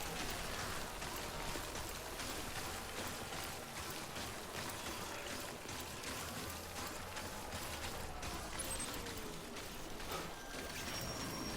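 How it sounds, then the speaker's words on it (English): Persistent rain in the video game Death Stranding, a soft, even hiss of falling water running continuously at moderate level, with faint tonal game sounds drifting underneath and no speech. "Come on, rain, just stop."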